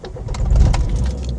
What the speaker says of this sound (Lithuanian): vedu variklį